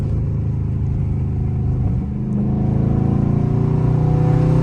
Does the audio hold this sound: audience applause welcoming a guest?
no